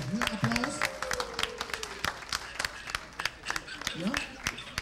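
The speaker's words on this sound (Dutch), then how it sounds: "Ja, oké, een applaus." A small group in a lottery draw room claps in sparse, distinct hand strikes rather than a full roar, with voices talking over the scattered claps.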